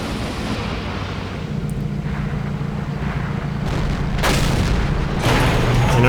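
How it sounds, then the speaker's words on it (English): Tank cannon fire in an online tank battle video game, heavy booming shots over a steady low engine rumble, with two sharp broadband blasts late in the clip growing louder toward the end. "I know that shells from this gun drop off just enough that this shot's viable."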